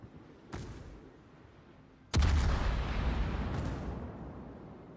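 Naval 8-inch guns firing in World of Warships: two or three heavy booming salvos, the loudest mid-clip, each followed by a rolling, rumbling tail.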